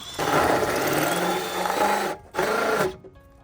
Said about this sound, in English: we're going to ream out this hole